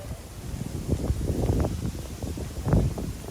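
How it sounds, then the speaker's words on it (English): Wind gusting across a Tokyo street on a winter day, a steady low rumble of buffeting with rising and falling gusts, loudest near the end, with no talk. "it's a bit windy, so I apologize if it's windy"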